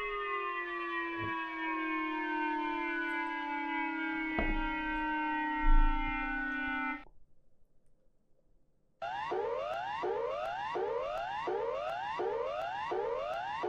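A loud emergency siren drones steadily with a falling tone, cuts out briefly, then returns as a rapid repeating rising whoop pattern.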